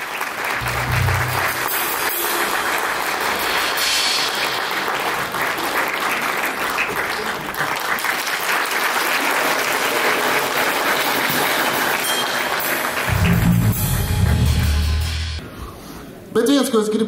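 Audience applause at a 30th anniversary jubilee concert, a loud, dense and sustained round of clapping that runs almost the whole length, with voices heard over it and low bursts near the start and end.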